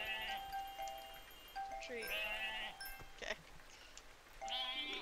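Sheep in the Harvest Island video game bleat in several short, tonal calls spaced across a few seconds, clear and upfront, with a person talking briefly between them.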